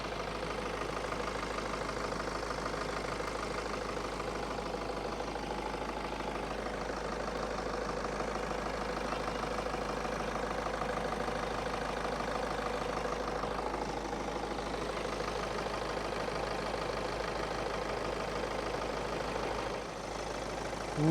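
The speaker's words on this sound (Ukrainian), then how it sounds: "Послухайте роботу двигуна." A 2018 BMW 520d diesel engine idles steadily nearby, a low, even chugging rumble that holds constant for the whole stretch with no talking.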